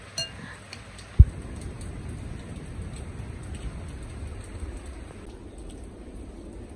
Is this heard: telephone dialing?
no